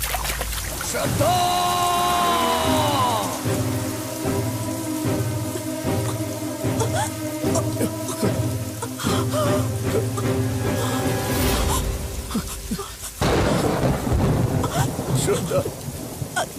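Steady rain with thunder in a Hindi-dubbed South Indian action film, a broad rushing wash that runs the whole length under a music score and occasional voices.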